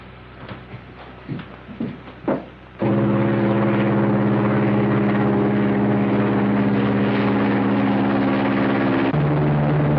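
A light propeller plane in a 1947 bush-pilot film drones steadily and loudly for most of the span, its engine tone holding then dropping in pitch near the end, after a few brief thumps and noises.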